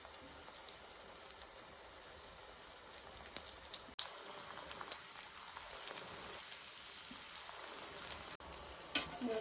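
Oiled brinjal slices frying on a hot tawa, a continuous faint rain-like sizzle and crackle, broken by a couple of soft clicks and a brief scrape near the end.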